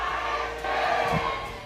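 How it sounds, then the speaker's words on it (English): A crowd of RSG Singapore Raiders fans roars after their team wins the MPL Singapore Season 4 esports grand final, a brief, loud, dense wash of cheering with no clear talk. "That's the cheer of the Raiders right there"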